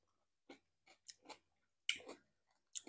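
Crunchy pickled cucumbers are chewed close to the microphone in a quiet room. Several short, crisp crunching bites come at an uneven pace, with a louder bite near the end.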